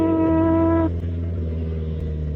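Motorcycle engine droning steadily with a steady tone that shifts and lowers as the bike passes close by, loud and continuous, heard from a rider's Kawasaki Ninja 1000SX.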